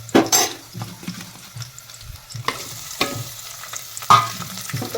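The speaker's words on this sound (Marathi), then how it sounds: "कांदा मस्तपैकी आता भाजला मित्रांनो बघा एकदम तयार तयार आता या कांद्यामध्ये टाकत टमाटर" Onions frying in a pan as tomatoes are added for a vegetable biryani: a low sizzle runs underneath while a spoon scrapes, and sharp clatters and bumps of the pan sound nearby.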